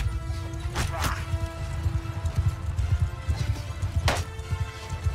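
Mounted armies galloping across a Mount and Blade II: Bannerlord battlefield, a steady rumble of hoofbeats with a couple of sharp impacts, and someone talking over the action.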